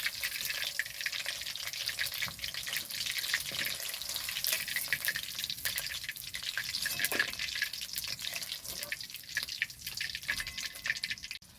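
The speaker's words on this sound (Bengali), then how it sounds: "চিকেনগুলোকে লাল করে ভেজে নেব।" Chicken pieces frying in hot oil for chili chicken, a dense, steady sizzle and crackle that runs without a break, close and moderately quiet, with no talking.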